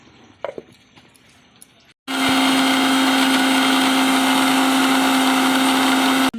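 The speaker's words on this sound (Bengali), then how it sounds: "আমি মিক্সারে মশলাটা পেস্ট করে নেবো" A kitchen mixer grinder whirs loudly and steadily as it grinds ginger, cashews, tomato, cumin and coriander into a masala paste. A few faint clicks come first, then the motor starts abruptly and keeps a constant high-pitched drone until it stops near the end.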